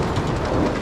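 During a heavy thunderstorm on the Greek island of Symi, dense rain hisses continuously with a low rumbling undertone of thunder, fairly loud and close.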